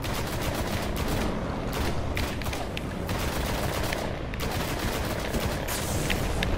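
Dense, continuous automatic gunfire in the Destiny video game, sustained rapid shots layered with booms and impacts, loud and close throughout with no pauses.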